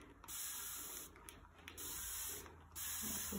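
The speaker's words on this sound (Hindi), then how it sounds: "ये स्प्रे बॉटल से स्प्रे कर दिया है।" A handheld spray bottle mists water onto plants in four quick, soft hissing bursts separated by brief pauses, faint and close.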